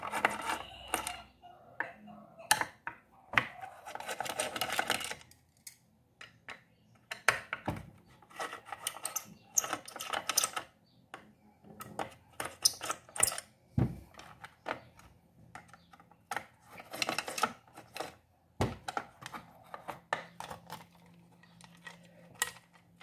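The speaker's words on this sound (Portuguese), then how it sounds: "agora eu vou retirar esses três parafusos aqui, ó aonde eu vou ter acesso à base dele" Screws being undone on a Cadence Prisma clothes iron during disassembly, heard as scattered small metallic clicks, rasps and scrapes of a screwdriver and plastic housing, close by, with intermittent rustling handling noises between.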